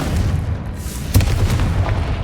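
Confringo explosion spell cast in the video game Hogwarts Legacy, set in a tomb: a single heavy booming blast bursts out partway through over a steady low rumbling game ambience, with no talking.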